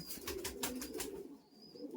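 Giribaz pigeons coo in a loft, a run of soft, close, rhythmic low coos repeating for a couple of seconds with no talking.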